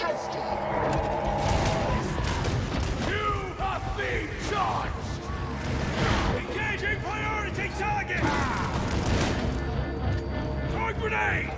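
Dense gunfire and explosions in the co-op shooter Warhammer 40,000: Darktide, a constant loud battle din with booming hits, yelling and sharp shots running throughout while teammates talk over it.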